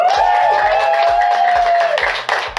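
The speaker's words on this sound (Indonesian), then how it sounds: "Ayo semuanya tepuk tangan dong" A talk show studio audience claps for an arriving guest, a moderate wash of applause over a steady background tone and a low rhythmic beat.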